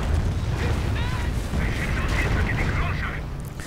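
A Calliope rocket artillery barrage pounds the battlefield in a World War II strategy game, a rumbling stream of launches and explosions that stays steady and loud, with a rising whistling streak partway through.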